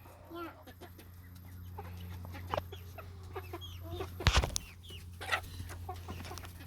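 Chickens, including Cochin roosters and red silkies, cluck softly around a farmyard during morning feeding, with scattered faint calls and a brief louder clatter midway while people talk quietly nearby.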